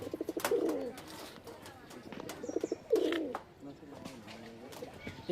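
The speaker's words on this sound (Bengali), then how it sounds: "গরম পায়রা আছে অনেক ডাকটা দেখতে পাচ্ছ কেমন" Repeated rolling coos from a pigeon in breeding condition at a pigeon loft come in a few bursts, fairly close, with a person talking intermittently over them.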